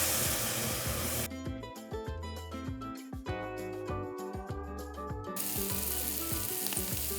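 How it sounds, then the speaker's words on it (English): Rice toasting in a pan with sweated onions for a saffron risotto gives a steady sizzle, overlaid in the middle by loud tonal music that masks it before the frying noise returns alone. "After sweating the onions, we're going to lightly toast the rice."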